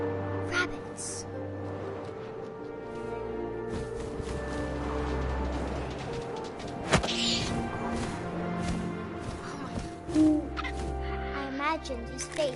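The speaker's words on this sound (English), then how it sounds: "And suddenly, I was an owl." An owl in the video game What Remains of Edith Finch gives a low hoot amid wind-like ambience and soft game effects, with a voice talking over much of it.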